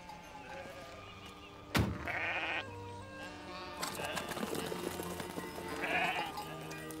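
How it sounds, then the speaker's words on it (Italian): Sheep bleat outdoors in a couple of wavering calls, the second one louder, amid rustling and a sharp knock partway through. "Le pecore"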